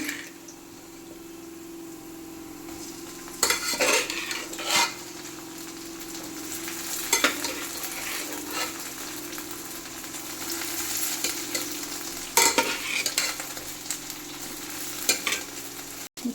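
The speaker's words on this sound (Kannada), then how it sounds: "ಮಿಕ್ಸ್ ಆಗಬೇಕಲ್ಲ ಈರುಳ್ಳಿ ಎಲ್ಲ ತಿರುಗಿಸ್ಬೇಕು" Onions and beans frying in a pan for a bean sprout palya, stirred with a spoon: steady sizzle throughout with several louder scraping stir strokes, close and clear, no talking.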